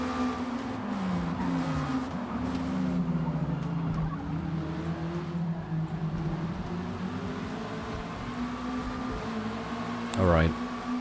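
Racing video game engines: droning, shifting car engine tones that rise and fall continuously, with a brief revving sweep near the end, loud and steady throughout.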